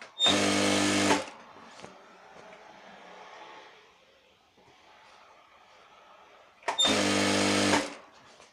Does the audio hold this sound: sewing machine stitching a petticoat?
yes